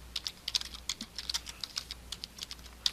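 Rapid keystrokes on a computer keyboard while HTML code is typed, a quick uneven patter of crisp clicks, close and fairly quiet, with no voices.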